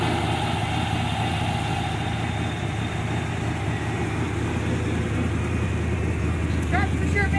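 A steady idling engine from a Monte Carlo car or Ford truck being moved during a wind storm, a constant low rumble that stays even throughout with no revving.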